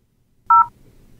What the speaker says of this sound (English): Press any digit to hear your message.